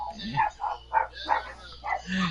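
Several sharp dog barks come in a loose, uneven series of about five, moderately close, with a faint voice and low background hum underneath.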